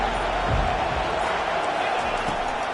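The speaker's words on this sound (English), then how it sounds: "listen to this crowd coming through." A stadium crowd roars at a college football game between Oklahoma and TCU, a dense, steady wall of noise that holds loud and unbroken for the whole moment.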